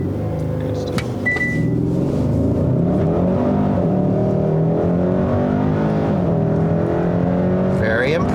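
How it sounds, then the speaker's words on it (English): A 2021 Hyundai Sonata N-Line engine of nearly 300 hp roars loudly and climbs steadily in pitch as the car accelerates hard from a launch, heard from inside the cabin. "Floor the brake, floor the accelerator."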